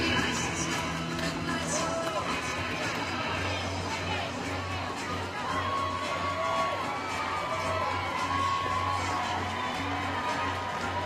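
Roller derby crowd cheering for the Lake Effect Furies during their victory lap, a sustained, even wash of shouts, chatter and children's yells filling the arena without letup.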